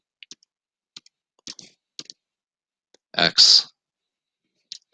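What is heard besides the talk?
typing equations into a calculator keypad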